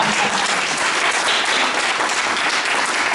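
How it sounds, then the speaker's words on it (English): A concert audience breaks into loud, sustained applause, a thick continuous roar of many hands clapping up close with no pauses. "give yourselves a round of applause"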